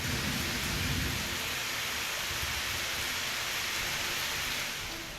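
Heavy rain falls during a thunderstorm with lightning strikes. A dense, steady hiss of rain runs throughout, with a low rumble of thunder near the start, then fades slightly at the end.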